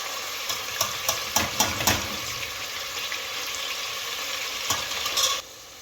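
Onions sizzle in a frying pan for a meat roast with mung dal, stirred with a run of sharp utensil scrapes and knocks in the first two seconds over a steady hiss, then one more scrape before the sound cuts off.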